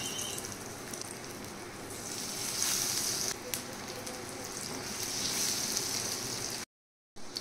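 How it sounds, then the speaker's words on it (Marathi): Homemade cutlets shallow frying in very hot oil on a medium flame, a steady crackling sizzle close by that swells slightly midway, then briefly cuts out before resuming. "मी इथे डीप फ्राय पण करू शकता, मी इथे शॅलो फ्राय करून घेत आहे।"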